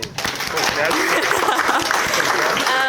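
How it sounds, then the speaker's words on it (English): Guests applaud the bridesmaids at a wedding speech, with dense, close clapping filling the room that swells quickly and holds steady throughout. "give them a clap"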